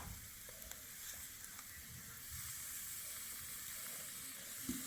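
Ice cream dropped onto a very hot chocolate sizzler plate with eggless chocolate cake gives a continuous close hiss and crackle, steady throughout with small pops.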